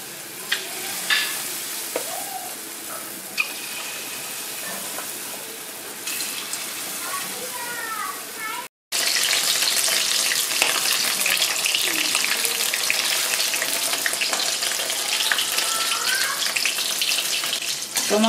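Mushroom pakoras frying in hot oil, giving a dense, steady sizzle close by that continues for the whole stretch, with a brief break partway and occasional stirring sounds.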